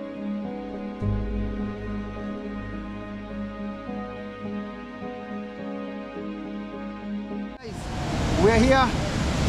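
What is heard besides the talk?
big waterfall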